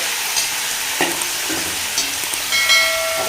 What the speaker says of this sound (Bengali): এই আলু ভাজার তেলের মধ্যেই চিকেনটা প্রথমে ভেজে নেব